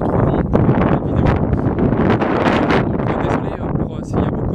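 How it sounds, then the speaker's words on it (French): Strong outdoor wind buffets the microphone without pause, a dense, rumbling roar with gusty swells that fills the whole stretch and masks any quieter sounds. "Désolé pour s'il y a beaucoup de vent."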